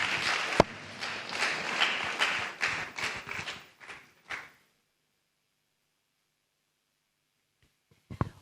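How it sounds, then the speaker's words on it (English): An audience applauds the program chairman in a brisk, fairly close round of clapping that lasts about four seconds and then cuts to near silence, with a faint knock or two at the very end. "Please, let's give him a round of applause."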